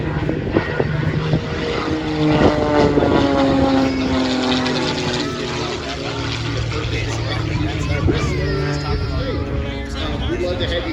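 Aerobatic airplane flying an airshow routine at EAA AirVenture Oshkosh, its propeller engine droning steadily with shifting pitch throughout, with people talking over it.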